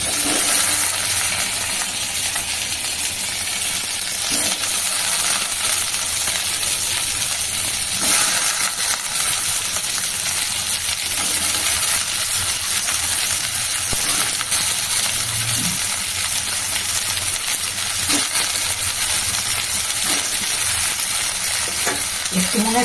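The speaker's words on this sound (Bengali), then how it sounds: "সোয়াবিন গুলাকে জলটাকে নিচুড়ে দিয়ে দিচ্ছি ভাজতে" Boiled, squeezed soybean chunks frying in hot oil, a loud, unbroken sizzle lasting throughout with occasional light clinks and scrapes of a spatula in the pan.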